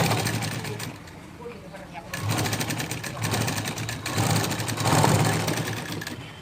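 A sewing machine stitches the front panel of a blouse, giving a steady whirring drone broken into rhythmic bursts as the fabric is fed through, with a voice talking over it.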